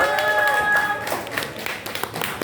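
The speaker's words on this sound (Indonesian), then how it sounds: "Tepuk tangan dulu dong buat Lia." A press conference crowd applauds, with scattered clapping that thins out over a couple of seconds after a held musical note fades.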